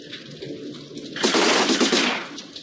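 Gunfire in the tactical game Silent Storm: a dense, loud burst of rapid shots lasting over a second, following quieter game ambience.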